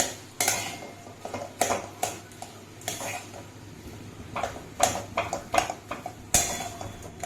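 Potato mixture stirred in a pan, with a spatula knocking and scraping against the metal in uneven bursts, several sharp clanks standing out over a faint background, close by.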